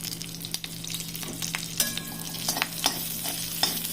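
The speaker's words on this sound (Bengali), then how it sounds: "মেথিও ফোড়ন দিয়ে আর একটু রাঁধুনি হাতের মধ্যে চটকে নিয়ে ফোড়ন দিয়ে দিলাম" Fenugreek seeds and crushed radhuni spice sizzle in hot oil for a Bengali rohu and pointed gourd curry, a close steady frying hiss with scattered crackles and pops and a few stirring scrapes.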